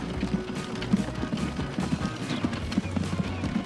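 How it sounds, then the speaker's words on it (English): Horse-drawn carts clip-clopping in the Transport Fever video game: a steady run of hoof clops repeating a few times per second, fairly close and clear, over a soft background bed. "Another set of horse and cart is en route, which is to be expected."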